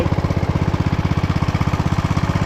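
A John Deere zero-turn mower engine idling, a steady, even low chugging pulse close by with no voices, running without change throughout.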